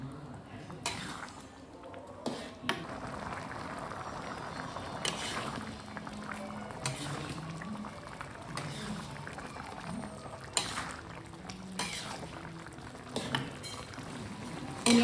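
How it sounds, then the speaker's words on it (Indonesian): Rice and broth simmer in a pot with a large pandan leaf for Hainanese chicken rice, a soft steady bubbling under a voice speaking, broken by a few sharp clinks of a utensil against the pot. "ini kita masak aja sampai nasinya dan sampai kuahnya berkurang"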